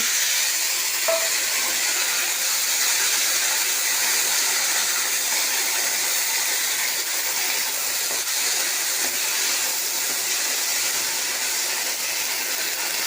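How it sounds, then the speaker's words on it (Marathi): Jackfruit pieces hit hot oil in a pan and sizzle with a steady, dense hiss that holds evenly from start to finish, close and fairly loud, with no talking. "तर ह्यामध्ये मी ह्या फणसाच्या आट्या टाकते."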